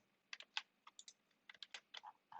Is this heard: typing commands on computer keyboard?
yes